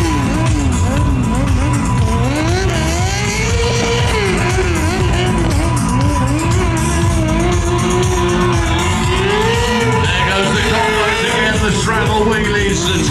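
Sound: drift bike engine at monster truck show

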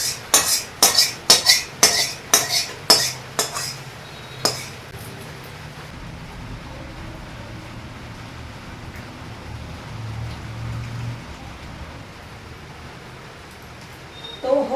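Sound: pouring out cooked tel koi fish curry

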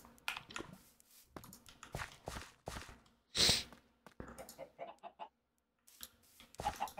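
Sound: chickens clucking in Minecraft, a video game

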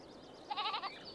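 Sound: goat bleating in a farm pen

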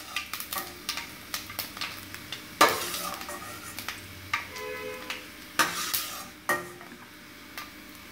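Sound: roasted broken wheat scraped from pan into bowl

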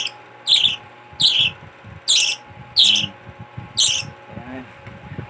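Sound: pet bird chirping while being spoon fed

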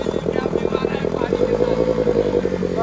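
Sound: motorcycle engine running while stuck off-road

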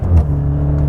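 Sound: Maserati Ghibli Hybrid exhaust revving in sport mode

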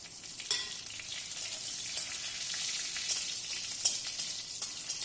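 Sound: dried chillies and bay leaves sizzling in hot oil

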